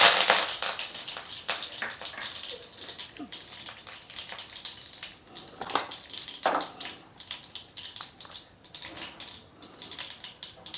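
Mustard seeds and urad dal crackle and pop in hot oil, a busy scatter of sharp sizzling bursts that rise and fade irregularly, close up.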